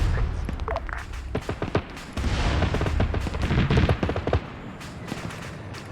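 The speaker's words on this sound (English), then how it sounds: "And there's the rocket run." A rocket-run air strike in a military video game: a rapid barrage of loud explosive cracks and booms, dense and overlapping, easing briefly midway before a heavier volley and then thinning out.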